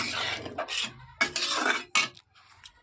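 Lid set down on a cooking pot of potatoes simmering in water, a few sharp metallic clanks and rattles in short bursts, close and fairly loud, with quiet gaps between.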